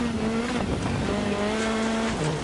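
A rally car in the Dirt Rally 2 video game drives flat out on a stage, with a loud, continuous engine drone whose pitch shifts with the gears, plus tyre and gravel noise, and no talk.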